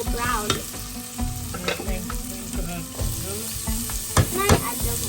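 A pan of onions frying until brown for a butter chicken curry, with a steady sizzle and repeated stirring scrapes, close and fairly loud, no one talking.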